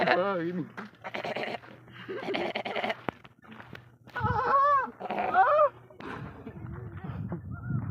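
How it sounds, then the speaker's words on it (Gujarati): Kutch goats and sheep belonging to herders walk out to graze, giving scattered bleats near and far while someone talks over them at length. "ઘેટાજી કચ્છના કચ્છના બકરા બકરા આગળ બે આવી જાય છે ચાર પાછળ છે"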